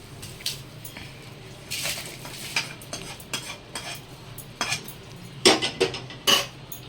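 A spoon clinks and scrapes against a pan while ingredients for mutton curry are fried and stirred, giving irregular sharp metallic knocks over a faint low background, with no talking.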